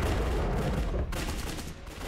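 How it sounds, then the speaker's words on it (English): Battle gunfire from the WWII strategy game Codename: Panzers – Phase Two rattles in a continuous, loud barrage of overlapping shots and booms with no pause. "They're shooting at us!"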